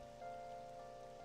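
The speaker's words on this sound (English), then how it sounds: "It is raining." Rain falls in the Persona 5 Royal video game in a soft, even patter, with steady sustained tones from the game's background music running underneath and no voices.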